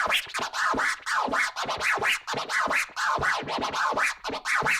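Rapid DJ rhythm scratching done by hand on a turntable platter without the crossfader. A steady run of dense, loud back-and-forth swipes in a driving, repetitive pattern sounds close and continuous, with no voices.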